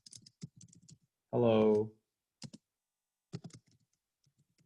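Light clicks on a computer keyboard come in short bursts of a few keystrokes each, close and quiet, and one brief spoken word breaks in near the start.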